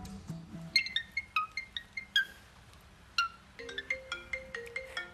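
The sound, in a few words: cockatiel imitating the iPhone's default ringtone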